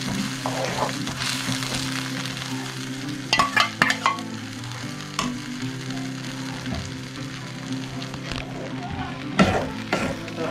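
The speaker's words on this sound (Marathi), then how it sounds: "थोडंसं ऑइल टाकून घेतलेलं आहे. आता आपण ते सगळं टाकून घेऊया आणि चटणी बनवूया." Chutney ingredients for fish momos crackle and sizzle steadily in hot oil, close and continuous, with a spoon clattering and scraping in the pan at intervals.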